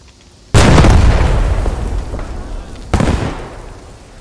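In the Post Scriptum video game, an enemy tank blows up with a sudden loud boom that rumbles and fades, followed a couple of seconds later by a second heavy blast.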